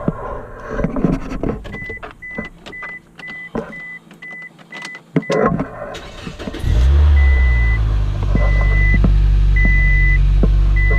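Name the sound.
Scion car engine starting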